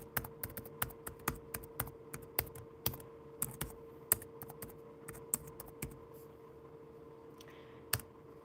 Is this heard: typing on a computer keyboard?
yes